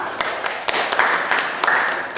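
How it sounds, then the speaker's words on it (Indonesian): Light, scattered clapping from a small group of students in a classroom, a few sharper claps standing out, fading after a couple of seconds. "tepuk tangan untuk kelompok 1"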